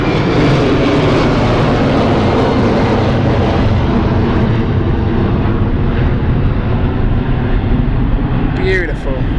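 Embraer E190 jet at London City Airport, a loud broad roar of engines close by that slowly fades as the aircraft moves away, with a brief voice near the end.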